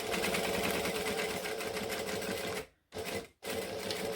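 A sewing machine stitches a seam on a bag, running loud and steady close up, with two brief pauses near the end before it starts again.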